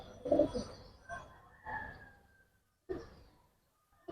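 Bangla pigeons, a breeding pair with a male, cooing softly in short, spaced phrases, close by and otherwise quiet.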